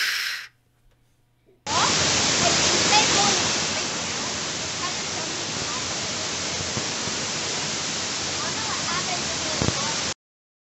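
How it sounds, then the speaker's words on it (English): A waterfall roars as a steady, loud, broadband rush of falling water that starts abruptly and continues without pause. "This is a waterfall. The water falls down."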